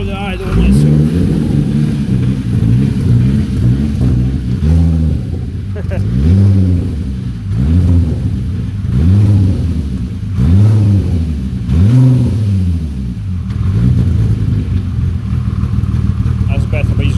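A Toyota MR2 fitted with a turbocharged VR6 engine runs at a rough idle, its revs rising and falling in repeated loud surges. The engine is close and dominates throughout.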